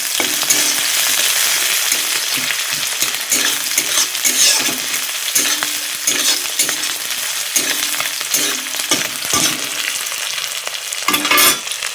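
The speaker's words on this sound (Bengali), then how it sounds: "তো দেখো এই যে লাল লাল হয়ে গেছে পেঁয়াজ ভাজা" Onions frying for a village-style mutton curry crackle with a loud, continuous sizzle, broken by frequent scraping and clattering strokes of a spatula stirring in the pan, with no speech.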